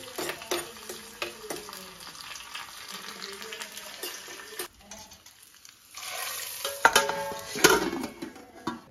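Tempering for a mango curry sizzles in hot oil, with crackling bursts and stirring clatter that grow louder near the end.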